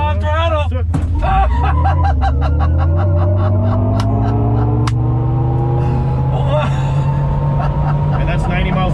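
A 2022 GMC Hummer EV truck launches at full throttle, its electric motor whine climbing steadily in pitch under close road rumble, while people talk and laugh inside the cabin throughout.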